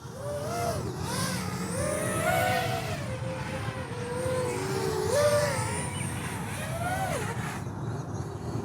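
Eachine Novice4 FPV drone motors flying in wind, whining steadily and sweeping up and down in pitch as the throttle changes, fairly close, with some wind noise underneath.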